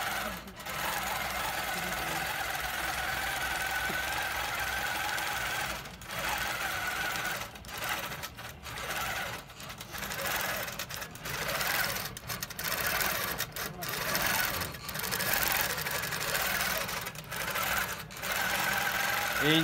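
Baby Lock Regalia longarm sewing machine on a large quilting table, stitching in a steady rapid mechanical chatter with brief pauses, fairly close, with no talk.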